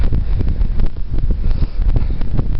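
Strong gusty wind buffeting the microphone outdoors in a Western New York berry garden, loud rumbling roar that swells and dips continuously without a break.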